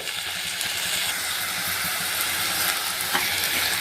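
Pureed spinach sizzles as it fries with onions in a pan, a steady, close hiss with faint stirring scrapes and no voices.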